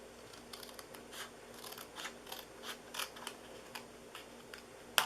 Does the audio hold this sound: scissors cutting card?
yes